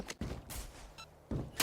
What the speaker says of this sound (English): Good headshot with the Spectre.